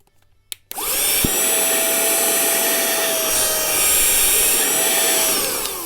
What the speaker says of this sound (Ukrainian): Зараз я включу і буду пилососити.